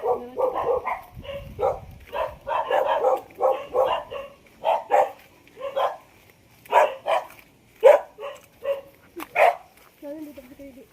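A dog barks repeatedly in quick bursts, fairly close and loud, with some yips between barks and faint voices in the background.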